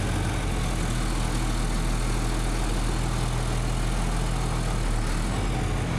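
An engine running without a muffler, among farm auction equipment, gives a loud, unbroken, rough low rumble at steady idle throughout, with no talking.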